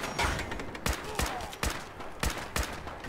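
About six sharp gunshots crack out at irregular intervals in Fallout 4: Far Harbor, each a loud, separate report, with no talk between them.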